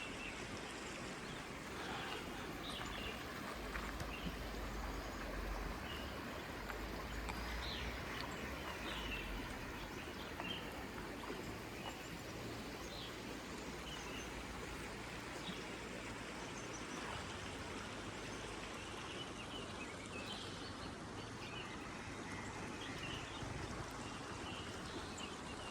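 River water flowing steadily past a riverside campsite, a continuous quiet rushing wash with a low rumble underneath, heard alone without voices.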